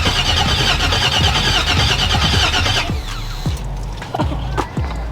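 A 1972 convertible's engine, parked for seven years, cranks with a loud rapid rhythmic churning for about three seconds, then catches and runs roughly with uneven sputters and coughs.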